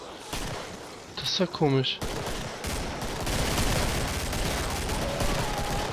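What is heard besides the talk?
rifle gunfire from the video game Killing Floor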